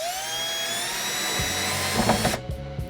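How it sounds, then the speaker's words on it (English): A power drill whines steadily as it drives a pocket screw into plywood, ramping under load before the motor cuts off and winds down near the end; close and loud, no voices. "drive it until the plywood is drawn tight to each other"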